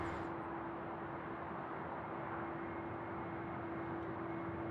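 A Qantas A380-800 arriving from Los Angeles touches down on runway 34 left at Sydney Airport, a steady distant jet roar with a constant hum running evenly throughout.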